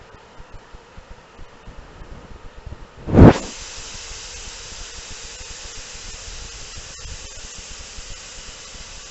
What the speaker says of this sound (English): Get it to a rolling boil.